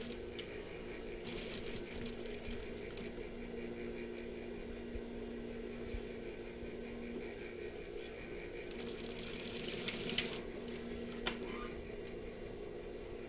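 A sewing machine stitches fabric while a pocket is sewn, humming with a steady mechanical whir throughout and a couple of small clicks near the end.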